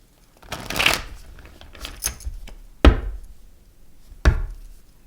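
Oracle cards being shuffled by hand: a long riffling rush followed by two sharp snaps as the deck is squared or tapped, close and fairly loud, with no talking.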